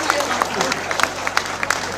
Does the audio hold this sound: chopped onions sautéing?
no